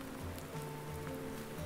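Steady rain falling in the farming game Landwirtschafts-Simulator 19, a soft continuous patter at moderate level with a low engine-like hum underneath, no talk.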